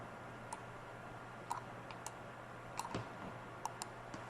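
Computer keys and a mouse give sparse, faint clicks, about a dozen at an uneven pace, over a quiet room hum while working in Adobe XD.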